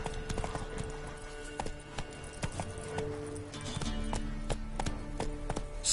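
A horse gallops in The Witcher 3: Wild Hunt, its hooves drumming in a fast, even clip-clop rhythm that stays close and distinct from start to end.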